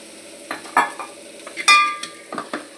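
Fried prawns stirred in a frying pan: a spoon scrapes and clatters in several separate strokes over a faint sizzle, close and fairly loud, with no voices.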